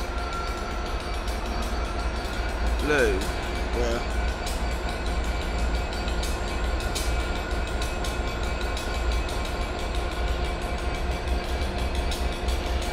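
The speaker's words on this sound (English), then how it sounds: "getting ready to depart now is the slightly delayed 1307 Southwest train service to London Waterloo." A South Western Railway train departs Bath Spa station, a loud, steady rumble of engine and rolling stock with a brief horn-like tone early on; a person briefly speaks.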